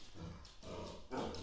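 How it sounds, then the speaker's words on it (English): Dogs bark in the background, a steady muffled mix of barks and yips that swells near the end, with no talking over them. "Let's just listen to dogs bark."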